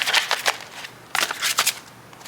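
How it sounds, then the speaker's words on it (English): A deck of tarot cards is shuffled by hand in two quick, close, crisp riffling bursts separated by a short pause. "Let's keep shuffling."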